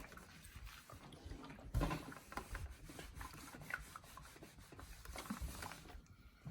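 A hot iron presses and slides along a pant hem, giving a steady soft rubbing and rasping texture with a brief heavier thump near the start, close by and with no talking.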